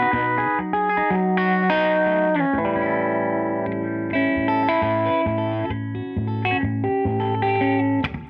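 A Reverend Airsonic electric guitar on its bridge pickup plays a continuous run of chords and single notes through chorus and distortion effects, loud, close and sustained, with no voices.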